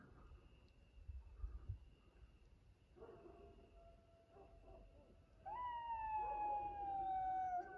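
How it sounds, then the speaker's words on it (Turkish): Jackals howling around a garden at night, faint and distant over a low background hiss, with a rising then slowly falling howl near the end. "Benim bahçemin etrafında çakallar dolu."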